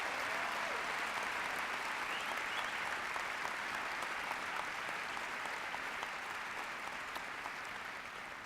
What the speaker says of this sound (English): Let's give all the staff involved in this evening a big round of applause.